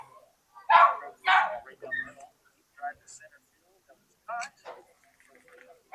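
Dogs barking at a youth 14U baseball game at a sandlot field, several sharp separate barks and yips close by, with gaps of near silence between them.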